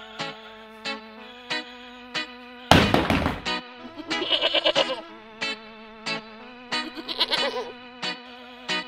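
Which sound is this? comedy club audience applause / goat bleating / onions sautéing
goat bleating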